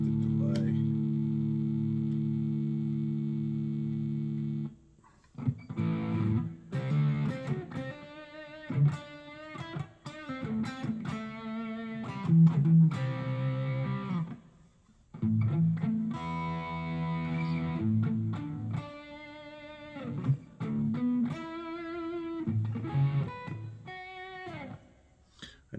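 Headless electric guitar played through a delay effect with a little reverb, clean picked notes and chords ringing out with repeating echoes trailing each phrase, alone and fairly quiet with short gaps between passages.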